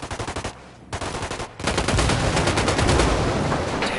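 Rapid automatic gunfire from the Ghost Recon Wildlands video game, loud bursts of repeated shots with short pauses, then a sustained dense volley of overlapping fire with no voices.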